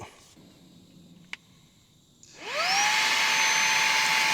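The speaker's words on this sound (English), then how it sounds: "I'm going to get the vacuum and we will see how it does" An OXILAM 4-in-1 vacuum cleaner switches on after a quiet moment with a faint click, its motor rising quickly into a steady, loud, high-pitched whine as it cleans sand from an FJ Cruiser car seat.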